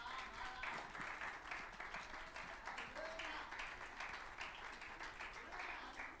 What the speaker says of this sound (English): Give him a cheer as he comes.